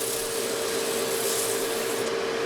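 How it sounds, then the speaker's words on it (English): Sandpaper at 80 grit rubbing steadily over the inside of a carved wooden bowl, a close, continuous rasping scrape with no pauses. "I went to work with the sandpaper on the inside, and I started with 80"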